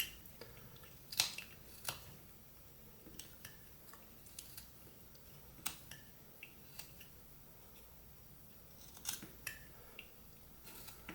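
A whittling knife making small cuts into wood while carving a nose, faint close scraping with scattered sharp clicks and slices over a quiet background.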